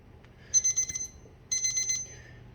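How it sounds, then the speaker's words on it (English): Automatic kitchen timer in a cooking class beeping in two short bursts of rapid, high electronic pulses, each burst about half a second long and separated by a brief pause, clear against a quiet room. "So when you hear that beep, that means it's done."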